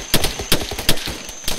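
Enemy automatic gunfire from a bunker in the military shooter ARMA 3, several sharp bursts of rifle shots at an irregular rhythm, moderately loud at medium distance, with no voices over it.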